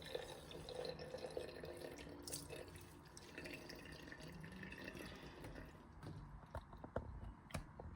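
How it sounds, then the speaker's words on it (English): Water splashes and drips at a sink as someone wets their face during a morning routine, a steady close trickle with small irregular splashes and drops, no voice. "So you wet, the first thing first, you wet your face."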